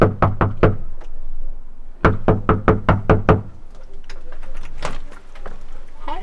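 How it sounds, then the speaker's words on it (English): Two bursts of sharp, rapid knocks on a door, about five raps each, loud and close, followed by faint rustling. "I'll knock on the door."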